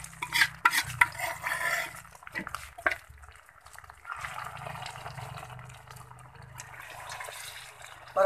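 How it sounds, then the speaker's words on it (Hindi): Saag (mustard greens) being stirred into golden-brown onion and garlic in a cooking pot, giving steady scraping and wet churning sounds that run for several seconds with short pauses, close and moderately loud. "और अच्छे से मिक्स कर लेंगे"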